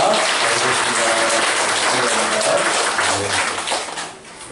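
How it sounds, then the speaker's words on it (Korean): A church congregation claps together during a Sunday thanksgiving service, a dense, steady wash of many hands that holds evenly and then tapers off near the end. "우리 박수로 한 번 더 환영합니다"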